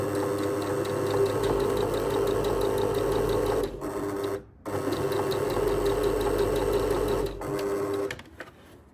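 A sewing machine stitches a shirt cuff placket at a short 2 mm stitch length, giving a steady close-up mechanical whir with rapid ticking. It runs in long bursts and stops briefly twice before winding down at the end.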